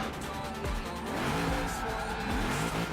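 A Lancer Evo in a Fast and Furious video game skids and spins out, its engine droning loudly under sustained tire squeal that rises and bends through the slide, with a voice talking faintly beneath.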